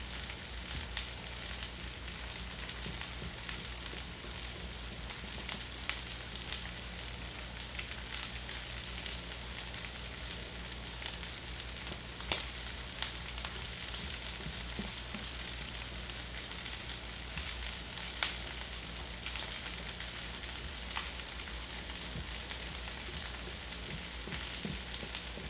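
Eggs fry in a hot pan with a steady close sizzle and faint crackles as they are stirred, lasting throughout with no talk.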